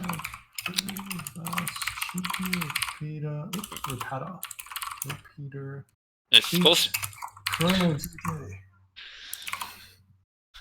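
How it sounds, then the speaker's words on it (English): Fast, hard typing on a computer keyboard, dense clattering bursts of keystrokes running beneath people talking throughout. "You slamming your keyboard in the background."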